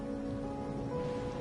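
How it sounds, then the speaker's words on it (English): Steady rain falls in the video game Wuthering Waves, a soft continuous hiss under a quiet musical drone with no talking. "Or are you simply passing the time until the rain ends?"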